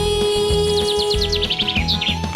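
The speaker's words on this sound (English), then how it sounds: "4 little birds sitting on a tree" Little birds chirp in quick, repeated high tweets over a steady rhythmic musical backing, fairly loud and close throughout.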